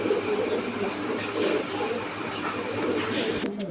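Pigeons at a pigeon farm keep up a continuous, close chorus of cooing and rustling, a dense steady murmur from many birds.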